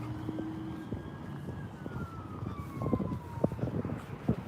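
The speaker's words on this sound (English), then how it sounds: "there's another siren coming behind me" An emergency vehicle siren wails from behind on a street, rising and falling over the rumble of a car interior and road noise, fairly distant but getting nearer, with no talking.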